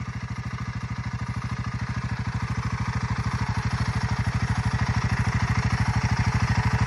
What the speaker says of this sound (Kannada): ಬನ್ನಿ ಇದರದ್ದು ಎಕ್ಸಾಸ್ಟ್ ನೋಟ್ ಯಾವ ಥರ ಕೇಳುತ್ತೆ ಅಂತ ಕೇಳ್ಕೊಂಡು ಬರೋಣ.